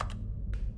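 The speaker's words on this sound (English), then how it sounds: "this clicking sound is inside the game. Like when I press button, this clicking sound comes up" Two quick, close, dry clicks from a button press in The Stanley Parable, separated by a short pause over a low background hum.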